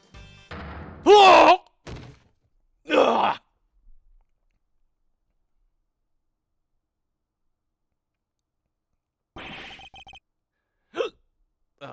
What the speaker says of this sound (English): Stupid hiccups.